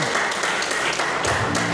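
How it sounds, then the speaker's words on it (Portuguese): A church congregation breaks into sustained applause in praise during a service, a dense, loud wash of many hands clapping at once with no speech over it. "Pode aplaudir o Senhor bem alto e bem forte."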